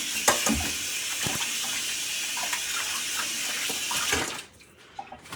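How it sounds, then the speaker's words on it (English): Hands are rinsed under a running kitchen tap during stuffed-crust pizza making, giving a steady close gush with splashes and rubbing for about four seconds before the water shuts off, leaving faint clicks. "let me wash my hands real fast"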